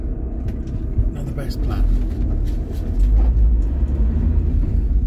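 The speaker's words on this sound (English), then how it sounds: "Find the right gear and take off in third." A car pulls away in third gear, its low engine rumble swelling partway through beneath a man's close speech.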